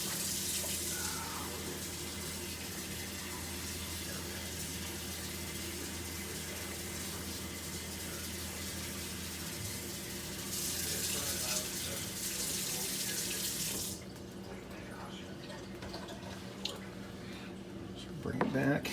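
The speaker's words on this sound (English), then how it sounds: "Okay, water's warm, so I'm going to go rinse it in warm." A tap runs steadily into a sink, with squishing and splashing as wool dyed with rose hips is rinsed in warm water under the flow; the water then cuts off near the end.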